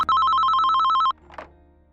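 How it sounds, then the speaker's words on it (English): An electronic telephone bell rings in a rapid, steady trill for about a second, loud and clean, then cuts off, leaving a faint brief rustle. "In the morning, she got a phone call from Katrina Van Tassel."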